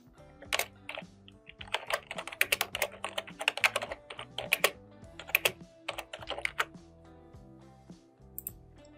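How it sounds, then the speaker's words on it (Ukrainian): Fast, irregular clicking of a computer keyboard as an email is typed, with close, crisp keystrokes in quick bursts and short pauses, no voices. "У темі листа напишіть своє прізвище і клас."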